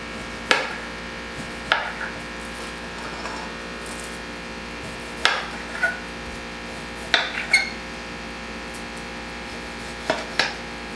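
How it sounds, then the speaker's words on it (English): Jerusalem artichoke chopped straight on a kitchen countertop, with sharp knife knocks arriving in small irregular clusters over a faint steady hum. "Next, I'm gonna chop my Jerusalem artichoke."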